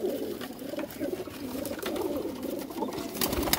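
Pigeons with feathered feet cooing close by, soft overlapping rolling coos repeating continuously over a busy outdoor background with occasional rustles and taps.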